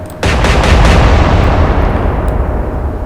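Naval guns fire in a World War II era sea battle in the Atlantic Fleet game: a loud, booming salvo of several overlapping blasts that roll into a long, rumbling decay.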